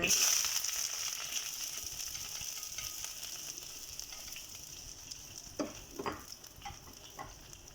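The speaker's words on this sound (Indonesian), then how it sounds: "Bahan-bahan ini aku goreng" Chutney ingredients for dosai fry in about two tablespoons of oil in a pan, a quiet, steady sizzle with a few scraping, clicking stirs near the end.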